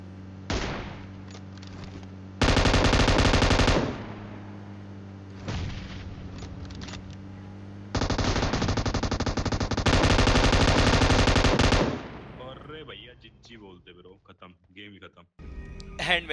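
Loud sustained bursts of automatic gunfire in a mobile battle royale shooter, several long volleys separated by pauses, with scattered single shots and someone talking near the end.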